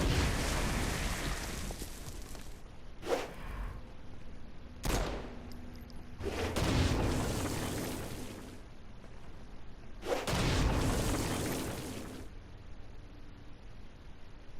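Stone Blast spells strike flying demons in the video game Saints Row: Gat out of Hell, a series of loud explosive bursts separated by brief pauses, with heavy rumbling booms recurring alone over low ambient game noise.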